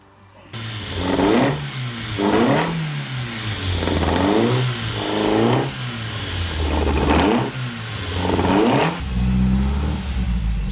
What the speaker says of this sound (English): we're now back at 5000 RPM down the Autobahn